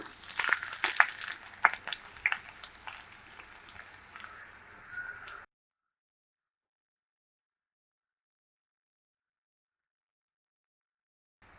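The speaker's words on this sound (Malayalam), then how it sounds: "നമുക്കിനി ഇതിലേക്ക് ഒരു വലിയ സവാള ചെറുതായിട്ട് കട്ട് ചെയ്തിട്ട് കൊടുക്കാം." Chopped onion frying in a pan for a Kerala chicken stew gives a close, crackling sizzle with sharp pops for about five seconds, then falls silent.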